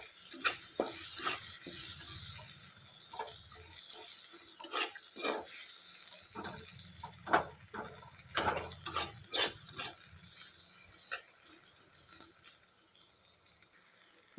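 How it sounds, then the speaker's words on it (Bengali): Chopped onions fry in hot oil in a pan for a sukti dish, giving a steady close sizzle with scattered crackles and stirring clicks throughout, no voices. "পেঁয়াজ ভালো করে লাল করে ভেজে নেব।"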